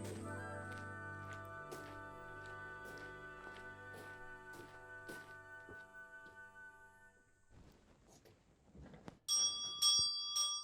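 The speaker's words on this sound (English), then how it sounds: "The doorbell is another thing that's very English" An English doorbell chime rings out in a series of clear, ringing bell tones that decay slowly and overlap, followed by quieter brighter tinkling near the end, with no voices.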